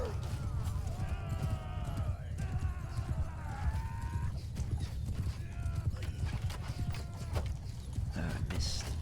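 Cavalry horses gallop in a Mount & Blade II: Bannerlord battle, hooves drumming in a dense, continuous clatter, with whinnies rising above the din and someone talking over the action.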